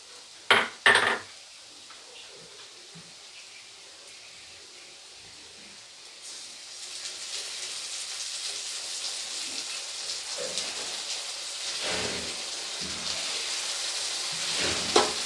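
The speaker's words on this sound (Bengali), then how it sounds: "রসুন বাটাটা দিয়ে আগে কিছুটা সময় পেঁয়াজের সাথে খুব ভালো করে ভেজে নেব" Garlic paste meets onions in a hot pan: a couple of sharp utensil clanks open, then a quiet pause before a strong, steady sizzle rises and holds, with occasional stirring scrapes near the end.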